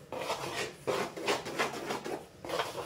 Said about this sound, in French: Je commence par mélanger à la cuillère parce que ce sera beaucoup plus pratique parce que là la pâte elle est vraiment très liquide.